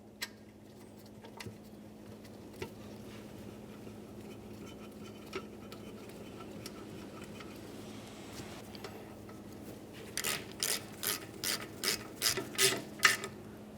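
Ratchet snugging a bracket mounting bolt on a brake flex hose of a 1999-2006 Chevrolet Silverado 1500: a quick burst of about eight crisp clicking strokes after a stretch of quiet with occasional faint taps.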